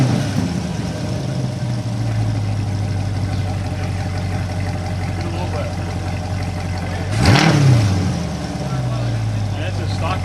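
A car with a stock exhaust idles with a steady low hum, swells briefly in a quick rev, then settles back to idle at an outdoor car meet; nearby voices are faintly present.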